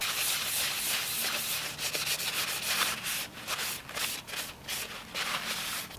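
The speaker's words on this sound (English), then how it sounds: "I'm going to give it a quick clean with some blue roll and some U-Pol degreaser" Blue roll soaked in degreaser is rubbed over a 3D-printed part in a continuous, close, scratchy wiping sound that briefly dips and resumes, with no talking.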